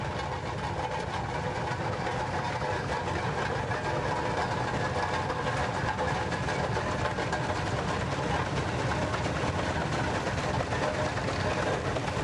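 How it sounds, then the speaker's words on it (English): A 1911 Gar Scott steam traction engine runs at a tractor show, giving a continuous mechanical rumble with a rapid rhythmic chuffing texture that stays steady and moderately loud throughout. "this is Mike Mcknight in his 1911 Gar Scott steam traction engine"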